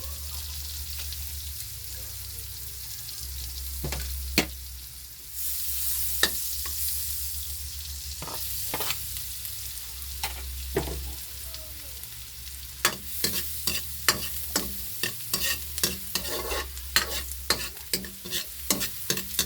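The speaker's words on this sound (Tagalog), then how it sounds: "Hintayin natin na magpula-pula yung bawang." Garlic sizzling in a hot pan, a continuous frying hiss broken by frequent scraping and clinking stirs that grow busier toward the end, close by.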